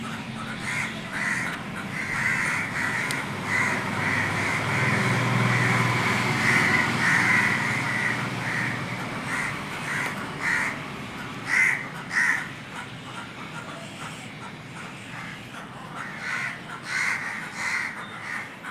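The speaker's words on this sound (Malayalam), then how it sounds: "കടൽ കാക്കകളുണ്ട് കേട്ടോ." Sea crows calling from roadside trees along NH 66 at Randathani where birds nest, a loose series of harsh caws repeating throughout over a soft background of distant traffic.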